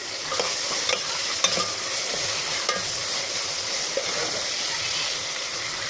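Ingredients for a moong dal curry frying in a pan give a loud, continuous sizzle, punctuated by occasional light clicks of a stirring spoon.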